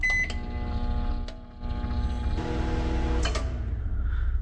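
A microwave oven drawing over 1800 watts from a 12V LiFePO4 battery and inverter, beeping as it starts, then a steady loud hum with tonal whine until it cuts out.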